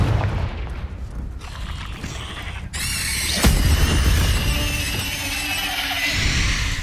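Fiery spell explosion in the video game Hogwarts Legacy, a sharp loud burst partway through amid ongoing game effects, with crackling and rumbling debris continuing afterward; no talk.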